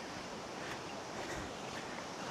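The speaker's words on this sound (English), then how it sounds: "there's another little mini waterfall with the pond area on the right" A small waterfall spills into a pond beside a creek trail at Salt Creek Falls near Three Rivers, California, giving a steady, close, rushing hiss of falling water with no voices.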